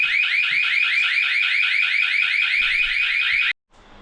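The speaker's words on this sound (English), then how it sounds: "There's an alarm going off, so that's his door." A household alarm goes off loudly and close by, a steady warbling electronic tone that pulses rapidly without a break, then cuts off abruptly near the end, leaving faint background noise.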